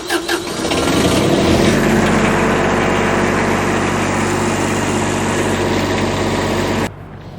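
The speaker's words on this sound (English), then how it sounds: "we're gonna have to fire up a generator to run this thing" A portable generator starts up, settles into a loud, steady, high-pitched engine drone for several seconds, then cuts off abruptly.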